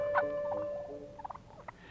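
A wild turkey gobbler gobbles in a few short, rapid bursts, heard at moderate distance against a quiet outdoor background.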